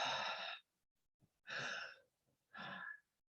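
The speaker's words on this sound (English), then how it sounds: "nice chest breathing, which" Three slow, deliberate breaths demonstrating chest breathing, each a long airy exhale of about half a second, close and quiet, separated by near silence.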